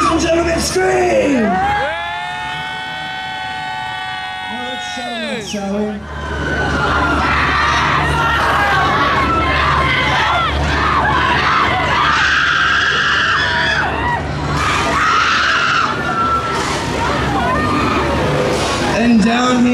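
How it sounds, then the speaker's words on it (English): Crowd at a Halloween Horror Nights show screaming loudly and continuously, sustained high shrieks and shouting from many voices close by, with a brief lull before the roar resumes. "That's right, scream, scream as loud as you can."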